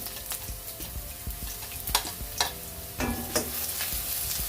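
Finely chopped garlic and ginger frying in a spoonful of hot coconut oil for chicken cutlet, a soft steady sizzle with brisk spatula taps and scrapes against the pan, close and fairly quiet.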